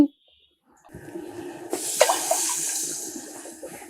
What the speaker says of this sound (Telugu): రెండు గ్లాసులు నీళ్ళు పోసుకుంటున్నాను నేను